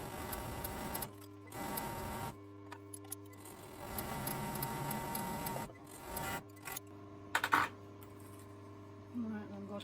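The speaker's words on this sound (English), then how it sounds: "I'm going to overlock across the bottom at this point" An overlocker stitches across the bottom edge of fabric for a strap top, quiet rapid mechanical whirring in several short bursts separated by pauses, with light handling clicks between runs.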